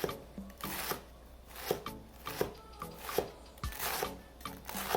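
A knife chops fresh parsley on a board for Lebanese tabouli: quick, steady, quiet taps, roughly two or three each second, close by, with a soft rasping between strokes and no talk.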